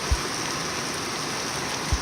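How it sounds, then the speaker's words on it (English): Steady, dense hiss of heavy rainfall pouring down continuously, with a couple of brief low thumps. "The rain has really picked up."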